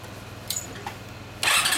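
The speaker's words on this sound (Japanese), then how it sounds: "オッケー、エンジン音聞かせてもらえるかな。" A Honda CB400 Super Four Version S (NC31) motorcycle fitted with a Pretty Racing exhaust, its engine cranking and firing up with a loud burst near the end after quiet low rumble.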